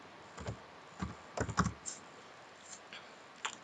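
Keystrokes on a computer keyboard while entering a spreadsheet formula: a few scattered clicks, then a quick cluster, with more isolated taps later, close and fairly quiet, with no talking.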